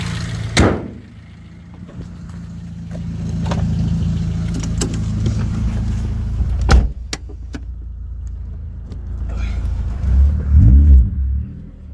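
A car interior with a steady, low engine rumble as the XRS fitted with bolt-on parts drives along. The rumble swells gently, clicks and thumps of handling cut through it, and the engine rises near the end.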